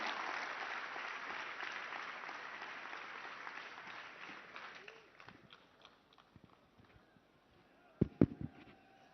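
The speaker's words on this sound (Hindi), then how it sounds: "एक बार जोरदार तालियां माननीय गृह एवं सहकारिता मंत्री जी के लिए" Audience applauding at a National Unity Day event honoring the home and cooperation minister, dense loud clapping that fades out over several seconds, followed by scattered claps and a few sharp bangs.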